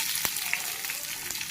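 Mustard seeds sizzle in hot oil for a tempering, a close, continuous hiss punctuated by a few sharp pops and crackles.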